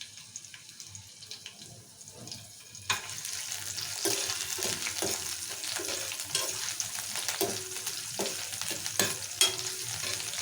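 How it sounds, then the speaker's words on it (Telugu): Cut green chillies hit hot oil in a pan while peanut rice is being made. After a quiet start, a steady loud sizzle breaks out, with a few light clinks from stirring and no talking. "బాగా వేగాలి మిరపకాయలు."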